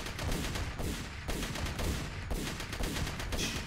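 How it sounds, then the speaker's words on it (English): Cannon fire in the Nexus Defenders video game, a rapid dense barrage of overlapping booming shots that continues loudly for several seconds, with no speech over it. "The cannon's doing some real good work."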